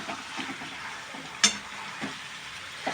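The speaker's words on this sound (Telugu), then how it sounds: "ఇది ఇలా ఇంకా సిమ్లో ఫ్రై అవ్వడమే." Chicken frying slowly on low heat in a pan gives a quiet, even sizzle with faint crackles and one brief sharp spit partway through.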